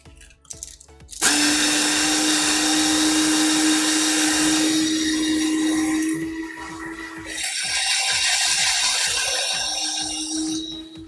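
After a brief quiet moment, a power sander starts on a yacht and whines loudly and steadily. Its pitch drops partway through as the pressure shifts, then it keeps running at close range with no talk.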